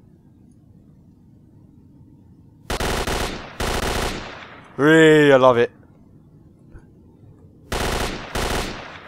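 Gunfire in the video game S.T.A.L.K.E.R.: Shadow of Chernobyl, several loud bursts of automatic fire in separate volleys, with a short stretch of talk between them over quiet background.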